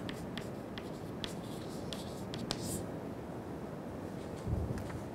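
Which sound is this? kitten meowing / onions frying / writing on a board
writing on a board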